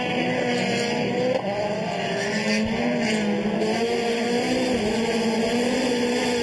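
Touring race cars, Hondas and factory Citroens on slicks in a WTCC race, roar in a continuous high-pitched engine drone with shifting whines, loud and sustained with no pause.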